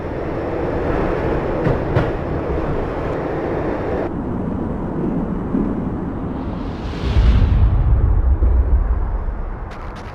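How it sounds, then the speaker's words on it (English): A steady rumbling train ride in the video game Max Payne, with rhythmic clatter and rushing noise, a whooshing swell rising near the end, no voices. "When the train he was riding slowed down"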